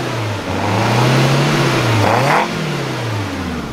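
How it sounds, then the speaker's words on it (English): A modified 1984 Toyota Corolla Levin AE86 with a carbureted engine revs loudly and close by, its pitch rising, holding, dipping and climbing again in a raw, continuous roar with no voices. "the sound and the response you get from carbureted system is like nothing else"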